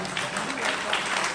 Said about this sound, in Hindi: उनके लिए जोरदार से तालियां।